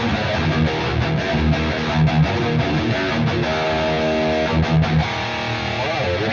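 High-gain distorted electric guitar playing a rhythm part through a Neural DSP Archetype Petrucci amp plugin with the delay removed, a dense chugging tone with sustained chords, loud and continuous for the whole stretch.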